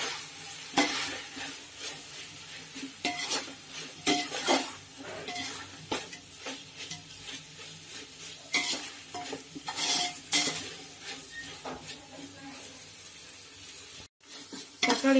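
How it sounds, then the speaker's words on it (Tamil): Tomatoes sautéed in a pan for chicken biryani, stirred in quick, repeated spoon scrapes and clinks against the metal over a soft, constant sizzle, fairly quiet overall, with a brief dropout near the end. "தக்காளி இந்த அளவுக்கு நல்லா குழைய வதக்கிக்கோங்க"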